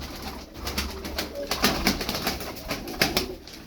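Dumanlı pigeons coo repeatedly at close range, in a series of soft, rising and falling calls with no speech.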